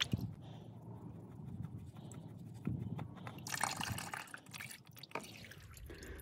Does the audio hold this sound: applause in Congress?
no